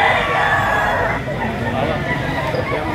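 A rooster crows loudly and close by at an outdoor poultry market in Lipa, Batangas, over steady crowd babble, with other birds clucking in the background.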